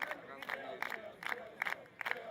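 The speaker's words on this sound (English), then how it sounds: "the crowd is starting to liven up" Crowd at a schoolboy rugby match in Zimbabwe livening up, with bursts of shouting and cheering rising and falling over steady background chatter, heard from a distance.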